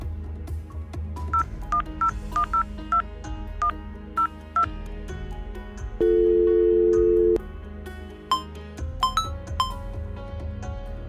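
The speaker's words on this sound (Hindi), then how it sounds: "एक बार कॉल लगा ही लेती हूँ।" A woman dials a phone in a Hindi web drama: a series of short touch-tone beeps in uneven rhythm, one long held tone in the middle, then a few quicker beeps, clear and close.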